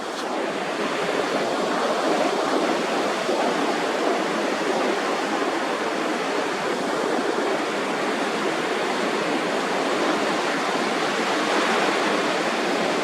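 Ocean surf rolling onto the beach at Cherry Grove, North Myrtle Beach, South Carolina, a loud, steady wash of breaking waves that fills the whole clip with no voices.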